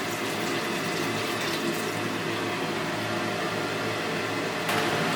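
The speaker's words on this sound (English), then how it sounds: "about 300 milliliters distilled water going in." Distilled water, about 300 milliliters, poured into a vessel during a gold refining setup, a steady rushing liquid pour with a continuous background hum and a brief brighter splash near the end.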